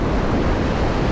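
Sea waves rolling in at Damian Bay beach on Trinidad's north coast, a loud continuous roar of surf close by with wind buffeting the microphone.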